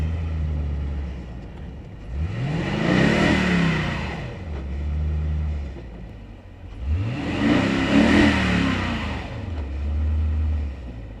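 An overland vehicle stuck on the Salar de Uyuni salt flat revs its engine in two loud, rising surges, each swelling and fading back to a low idle, heard close with no talk.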